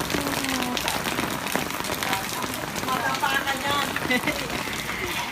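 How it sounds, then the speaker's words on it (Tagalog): Heavy rain pours down in a dense, steady patter, with faint harmonic background noises mixed in. "Ang lakas ng ulan, grabe."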